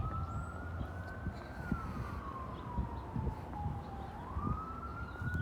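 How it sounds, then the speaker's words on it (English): A distant wailing siren rises and falls slowly over a low rumble of traffic and outdoor noise. "I hear sirens."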